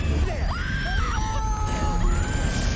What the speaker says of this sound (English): People are screaming everywhere.